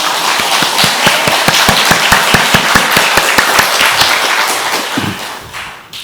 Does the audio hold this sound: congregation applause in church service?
yes